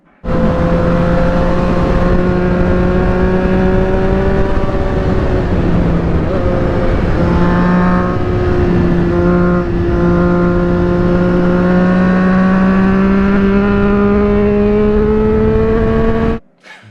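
A Triumph Street Triple motorcycle engine drones loud and close throughout a ride, its pitch rising and falling gently with the throttle, with no talking.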